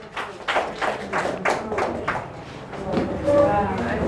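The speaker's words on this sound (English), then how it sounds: "let's clap for ourselves." A classroom of students claps for themselves during an art and design lesson, with a series of roughly evenly spaced group claps about every half second, close and moderately loud, followed by a brief lull and some murmuring.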